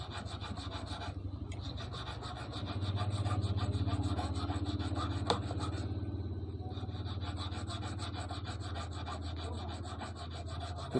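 Fine sandpaper rubbing a metal brake disc being shaped into an eel fishing hook, a continuous rapid rasping hiss with a motor-like hum underneath, steady and close, no talk.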